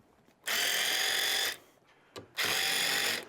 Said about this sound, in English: Now all I need to do is take a wrench and get rid of some of these